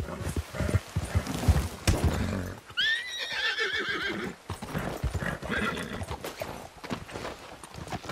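Horse hooves clip-clopping at a steady walk in the video game Red Dead, with a horse whinnying loudly midway through; the sounds are close and continuous.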